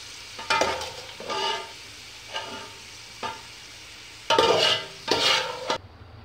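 Fried dry fruits scooped out of a sizzling pan with a spoon: a series of separate scraping, clinking strokes over a low background sizzle, the last two strokes longer and louder, up close with no talking.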